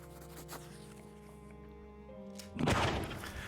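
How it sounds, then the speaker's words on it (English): A nearby gunshot in the narrative game The Life and Suffering of Sir Brante, one sudden heavy thump-like burst that breaks a sustained musical drone and then decays over about a second. "A nearby gunshot startles you"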